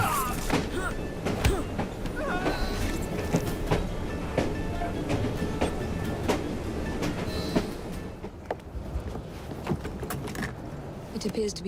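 A steam-era train running through Victorian London in Assassin's Creed Syndicate, a steady rumbling roll with repeated clanks and clattering thuds over the tracks, close and continuous, with speech over it.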